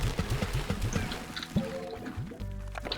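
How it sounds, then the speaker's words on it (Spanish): Water poured onto garden plants in the video game Slime Rancher, a light liquid pouring and dribbling sound with small splashy drips, close and fairly soft, over a low game background hum. "yo le voy a tirar agua"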